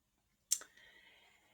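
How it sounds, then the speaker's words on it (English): A single crisp computer mouse click, close and quiet, followed by faint electronic hum in an otherwise silent room. "Once I've made those selections on the screen, I click continue."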